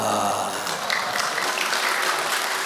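Applause from a church congregation during a sermon, a steady, dense clapping wash that holds evenly throughout without talk over it.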